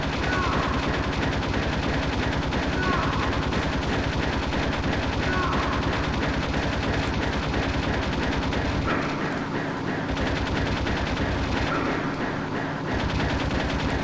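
Continuous gunfire in the Metal Gear Solid video game, dense rattling bursts over a steady mechanical drone, loud and sustained throughout.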